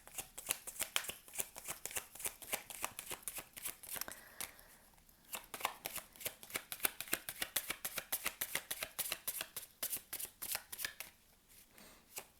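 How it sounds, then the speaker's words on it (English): Playing cards are shuffled up close in quick, crisp riffling bursts that repeat steadily for several seconds, with only a brief pause midway and no speech. "So now I will shuffle for which zodiac sign this is"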